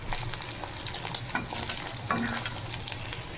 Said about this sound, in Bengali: আমি এই তিনটে ডিম দিয়ে বড় করে অমলেটের মতো ভেজে তারপরে এটা আমি ছোট ছোট করে পিস পিস করে কেটে নেবো